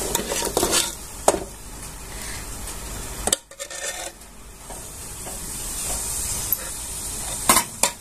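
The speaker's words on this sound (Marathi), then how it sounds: "छान अशी आता हलवून घ्यायची आपल्याला इथं." Milk cream (malai) is stirred in a pan, producing close, repeated rubbing and scraping strokes with occasional metallic knocks and a short quiet gap midway.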